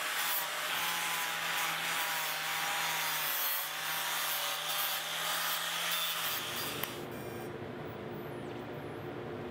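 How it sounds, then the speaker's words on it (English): An angle grinder with a flap disc smoothing welded steel after slag removal, a continuous harsh abrasive whir with a faint steady hum underneath, close and loud for several seconds before cutting off abruptly. "I used a flap disc on the angle grinder to clean it up the rest of the way."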